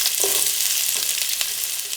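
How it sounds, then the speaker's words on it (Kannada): Medium-sized chopped onion fries in a tablespoon of hot oil in a pan, a loud, close, continuous sizzle with a few light stirring scrapes and no voices. "ಫಸ್ಟ್ ಈಗ ಒಂದು ಪಾತ್ರೆಗೆ 1 ಟೇಬಲ್ ಸ್ಪೂನಷ್ಟು ಎಣ್ಣೆನ ಹಾಕಿ ಬಿಸಿ ಮಾಡ್ಕೊಳ್ತಾ ಇದ್ದೀನಿ"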